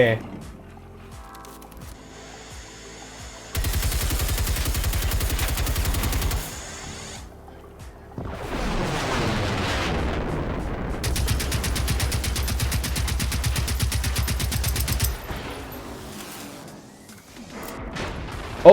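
Rapid bursts of gunfire from the video game Generation Zero, shock ammunition fired at Reaper machines, sustained for several seconds at a time, loud and close, with short quieter gaps between volleys.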